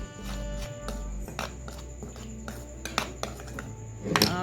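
Cornflour batter is whisked in a bowl, with a utensil clinking and scraping against the dish in uneven strokes and a sharper clatter near the end, close by and moderately loud.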